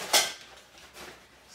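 Pink Le Creuset ceramic mini bowls being handled, giving one sharp close clink followed by a fainter knock, with quiet room noise between.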